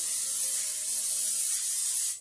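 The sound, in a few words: cooking spray sprayed onto a 9 by 13 cake pan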